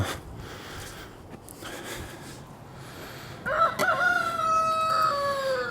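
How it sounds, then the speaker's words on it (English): A rooster crows on a vineyard farm, its drawn-out cock-a-doodle-doo rising clearly over a quiet outdoor background for the last couple of seconds, fairly close and loud. "There's the one chicken I fenced off."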